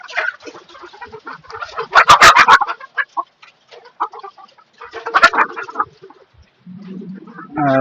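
Farm chickens on a rooftop cluck and call in loud bursts, close by, with sharper squawks rising among steady clucking and brief pauses between outbursts.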